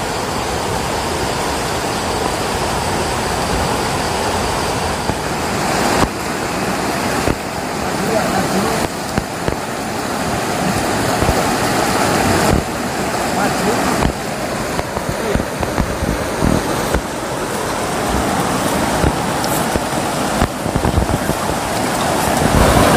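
Mountain spring water gushes steadily in a village setting, a loud, continuous rushing wash with no breaks, close by and dominating the scene, with no voices over it.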